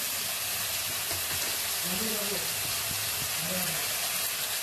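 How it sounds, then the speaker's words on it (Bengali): Ginger, garlic and chili paste sizzles and fries among onions in a pan, a steady hiss with occasional stirring scrapes. "এবার আমি এর মধ্যে যে আদা রসুন লঙ্কাটা পেস্ট করে রেখেছিলাম সেটা পরিমাণ মতন দিয়ে দেবো।"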